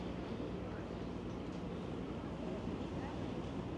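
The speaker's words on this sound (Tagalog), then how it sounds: "Kaya lang kapag humangin, nakakapanginig. Yung hangin talaga." Wind by the sea in Busan, South Korea: a steady broadband rush of air buffeting the microphone, constant and fairly loud throughout with no breaks.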